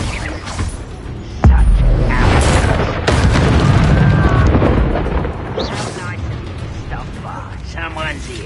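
A Confringo blasting spell explodes in the Hogwarts Legacy video game, a sudden deep boom followed by a sustained loud rumbling crackle, with game voices and spell effects layered over it.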